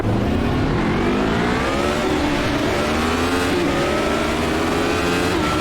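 Radical SR8 race car engine at the start of a race at Spa-Francorchamps in iRacing, a loud continuous high-revving roar climbing repeatedly through dual-clutch gear changes, with other cars droning around it.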